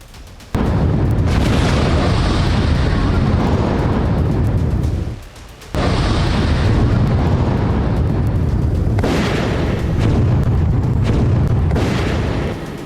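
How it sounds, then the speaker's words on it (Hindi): Bombing explosions in Beirut's Dahiya suburb make a loud, sustained roaring rumble of blasts that drops out briefly midway, then resumes just as heavy. "बेरूत के उपनगर दहिया में आईडीएफ ने इतनी बमबारी की जिससे हिजबुल्लाह की सुरंगें तबाह हो गईं।"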